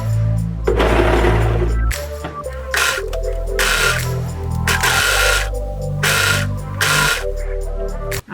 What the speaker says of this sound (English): Now I'm going to overlock my seam.